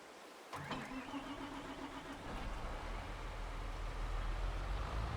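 A John Deere 7R tractor engine cranks and fires up in Farming Simulator 22. A brief starter whine catches into a rising rumble that settles into a steady, loud idle.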